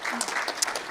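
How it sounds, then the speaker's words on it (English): Audience applause at a software developers' panel, a brief burst of clapping that is fairly steady and mid-level, with a voice faintly audible beneath it. "Give them a round of applause for that."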